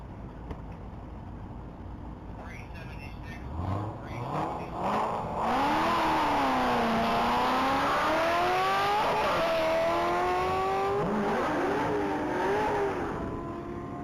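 A blue 2016 Corvette Stingray on a top-speed mile run at the Texas Mile, its engine note climbing through rising revs and gear shifts, loud and sustained as it accelerates hard.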